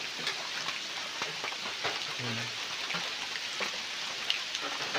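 Light drizzle falling in a rural farm setting, a soft continuous hiss of fine raindrops with faint patter, steady and even throughout.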